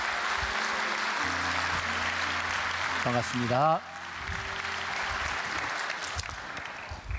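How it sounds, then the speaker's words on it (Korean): A church congregation claps to welcome a pastor, steady applause through the hall while a voice speaks over it, followed by a brief greeting from him. "오늘의 주인공 강일성 목사님을 박수로 맞이하도록 하겠습니다."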